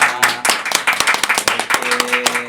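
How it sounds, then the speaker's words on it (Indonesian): Audience clapping at a casual talk show recording, a lively round of individual claps with distinct sharp hits close by, over a held background tone. "kasih tepuk tangan yang luar biasa"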